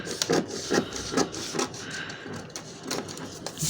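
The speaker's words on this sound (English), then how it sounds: "So now I'm cutting my front." Scissors cut fabric for the front of an off-shoulder criss-cross blouse, heard as close rhythmic snipping and crunching strokes repeating at an even pace.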